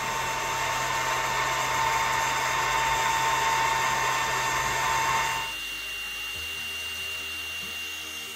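An engraving machine cuts a pattern into titanium knife scales with a steady, loud mechanical whine that drops suddenly to a quieter hum partway through.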